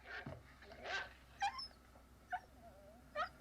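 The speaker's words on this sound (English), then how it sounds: "barking again and getting on my nerves again" A dog barking and yipping outdoors at night, a handful of short, sharp, fairly distant yelps spaced out by quiet gaps.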